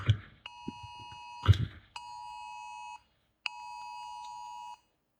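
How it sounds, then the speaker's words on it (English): A government emergency alert blares from a phone indoors: sustained electronic multi-tone blasts in several long pulses with short gaps, preceded by brief muffled knocks and movement, loud and close. "I had a government emergency alarm went off"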